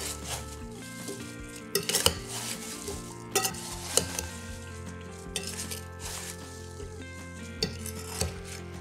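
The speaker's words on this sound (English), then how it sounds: "I'm gonna mix all of that together so that our flour isn't lumpy in the filling" Flour and spices stirred together in a bowl for apple pie filling, with repeated clinks and scrapes of a utensil against the dish over a soft background, no talk.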